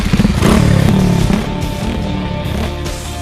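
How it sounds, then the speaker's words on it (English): A motorcycle engine roars nearby, throbbing loudly at first and then settling into a steady drone as it rides along. "cue motorcycle montage"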